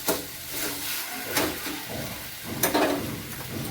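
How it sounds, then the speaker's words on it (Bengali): Kochu (taro) greens with chickpeas are stirred in a hot pan to cook off the water: a soft, continuous sizzle with a couple of louder scraping stirs, no talking. "ভালো করে নেড়ে নেড়ে জলটা শুকিয়ে নেব।"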